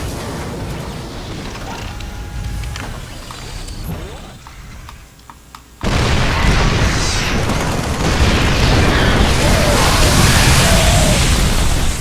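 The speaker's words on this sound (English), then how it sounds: "I killed almost all of those Banelings with my tank fire" Siege tank fire in StarCraft II kills a group of Banelings, with scattered clicks and small pops first, then a sudden loud boom of explosions that stays dense and noisy to the end.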